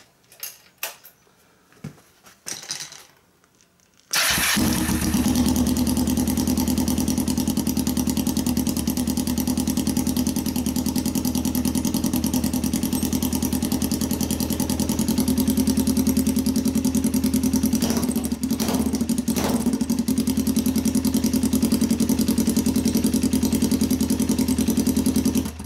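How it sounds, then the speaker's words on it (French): A motorcycle engine starts with a sharp burst and runs loud and raw with the exhaust silencer removed, a steady rumbling roar close by after a few quiet clatters. "je te fais démarrer la moto sans rien à l'air libre."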